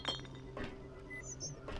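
A small glass vase in the video game Cradle is thrown and lands with a quiet, close glassy clink and a couple of faint ringing chinks afterward, short and soft.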